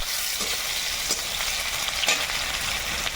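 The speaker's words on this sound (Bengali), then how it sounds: "একটা কড়াই বসিয়ে এর মধ্যে তেল দিয়ে দিলাম একটু তেলে গোটা জিরে শুকনো লঙ্কা পেঁয়াজ কুচি ছোটো করে রসুন" Whole cumin, dried chilli, chopped onion and garlic frying in a little oil in a wok give a steady, close sizzle, with a few soft stirring scrapes along the way.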